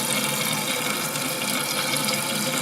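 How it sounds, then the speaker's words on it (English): Toilet tank refilling through a newly installed Fluidmaster 400AH PerforMAX fill valve, a steady, close rushing hiss of water running without a break. "now we're going to turn on the water and see if we got any leaks. Everything's filling up"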